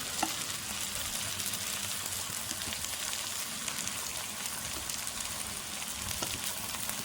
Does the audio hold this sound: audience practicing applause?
no